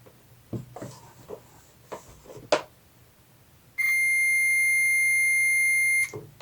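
A multimeter continuity test on a Honda VT1100 wiring connector gives a steady, loud electronic beep lasting about two seconds, preceded by soft clicks and rustling of the probes being placed.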